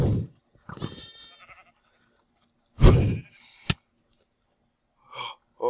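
Sheep bleat in the Minecraft video game, a few loud, close, wavering cries in separate bursts with short silences between them.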